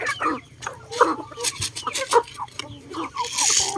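Chickens at a coop cluck and make short, busy calls close by while being fed, the sounds coming in overlapping irregular bursts.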